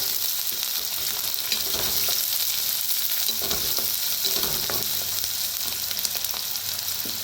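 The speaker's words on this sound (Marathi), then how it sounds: "कांदा, कांद्याला भाजून घेऊया।" Onion frying in a pan gives a steady, close hissing sizzle with occasional stirring scrapes throughout, and nobody speaks.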